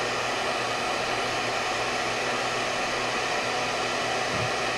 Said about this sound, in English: the hair dryer is too loud